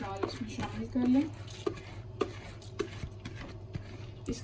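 Drained split urad dal is tipped into a pressure cooker, giving soft wet scraping and shuffling with a few sharp clinks of spoon on metal, close and fairly quiet, and a voice talks briefly.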